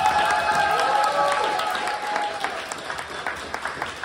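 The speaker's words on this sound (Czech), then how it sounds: "Prosím, ještě jeden velký potlesk." Audience applause following a summer acting school stage performance of a princess play, steady broad clapping that gradually thins and becomes more scattered, with a faint voice briefly audible at the start.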